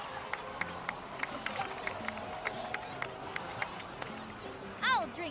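Crowd applause and cheering in the video game Genshin Impact, a steady wash of claps and cheers at moderate level with sharp accents throughout, ending in a brief swell.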